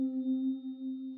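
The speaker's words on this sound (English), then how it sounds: "The pad I chose is out of Electra." A Electra synth pad holds one smooth, sustained chord, warm and steady, for about a second before fading slightly at the end.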